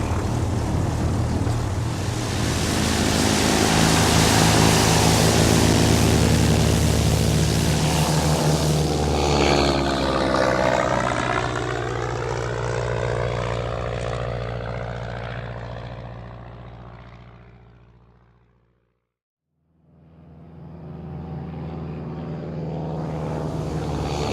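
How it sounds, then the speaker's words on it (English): A crop-duster airplane takes off, its propeller engine droning loud and steady for several seconds, then rising in pitch and fading as it climbs away, cutting to silence before the engine drone returns. "crop dusters can fly close to the ground"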